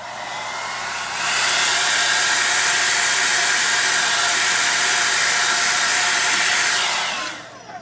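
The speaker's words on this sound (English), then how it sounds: "I started using my hairdryer when I blow out my little tiles" A hair dryer blowing acrylic paint on tiles, steady and loud, a continuous broadband whoosh that ramps up after a second and cuts off near the end.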